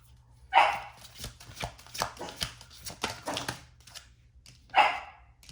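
Dogs bark loudly in a sharp yelp near the start and again near the end, with quieter scattered clatter and small sounds in between.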